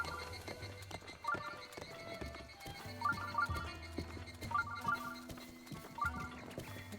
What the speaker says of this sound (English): Epona, this is the reason why I don't ride horses in this game.